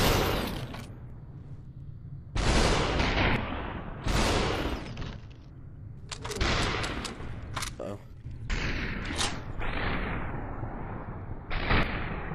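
Enemy gunfire in the video game Superhot, sharp bursts of loud shots breaking out in irregular clusters, separated by short quieter gaps, with a voice speaking now and then underneath.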